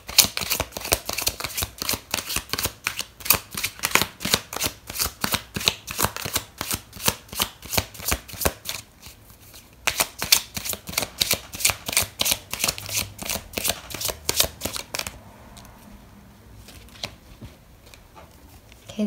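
Tarot cards being shuffled close up, heard as rapid rhythmic riffling bursts repeating for about fifteen seconds, with a short pause midway, before fading to near quiet.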